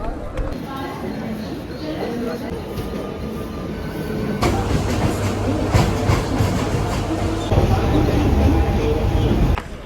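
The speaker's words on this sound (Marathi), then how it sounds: "वेस्टर्न रेल्वेने आपण जात आहोत" A Western Railway suburban local train runs between Dadar and Nalasopara, its wheels rumbling and clattering over the rails with a loud, steady roar and occasional squeals, while people talk over the noise.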